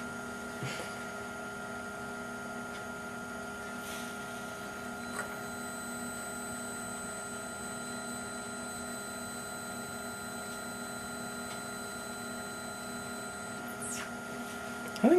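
Steady electric motor drone during a torque test at 48 volts with a 5 amp current limit, a continuous even hum with tonal whine holding at one level throughout, with no talking over it.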